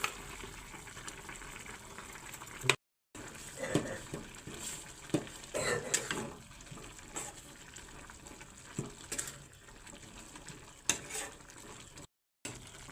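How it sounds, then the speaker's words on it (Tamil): Coriander and chilli powder sizzle and crackle softly in a hot pan for chilli parotta, with occasional stirring scrapes; quiet and steady, with no talking. "கொஞ்சம் நேரம் மிளகாத்தூள் வாசம் போகிற அளவுக்கு வதங்கட்டும்"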